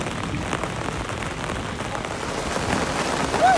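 A rainstorm pours down steadily and close by, with a dense hiss of drops hitting surfaces and a faint low rumble of thunder underneath.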